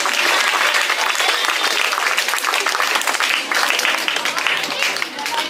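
A school audience at an Independence Day cultural programme claps loudly and continuously to welcome a teacher, a dense, sustained applause with a voice faintly audible beneath it.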